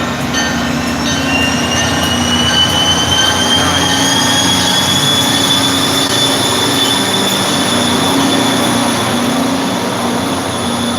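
A train rumbles steadily past close by, with high metallic wheel squeal ringing over the continuous roar of the cars.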